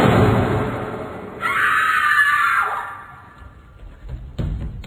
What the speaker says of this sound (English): In this particular show, it opens with a gunshot and a scream.